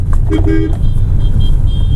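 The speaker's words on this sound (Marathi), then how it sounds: "बघा मी हॉर्न वाजवला" A car horn gives a brief toot in city traffic over the low, steady rumble of the idling car and road noise nearby.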